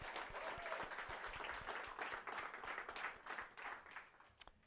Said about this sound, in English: Let's give a round of applause, everybody.